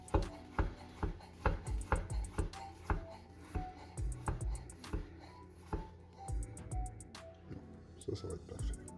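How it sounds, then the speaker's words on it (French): Ingredients for guacamole are chopped finely on a board, with a run of quick knife taps in bursts, close and clear, while a person talks over part of it. "hacher relativement finement"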